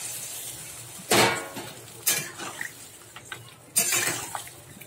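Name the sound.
stirring fried potato, ridge gourd and prawns in a pan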